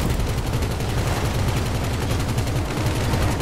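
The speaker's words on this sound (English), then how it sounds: "you're really in front of a massive machine gun" A massive vehicle-mounted machine gun fires in GTA 5 Online, a loud, rapid and unbroken stream of heavy shots that pounds on close by with no pauses.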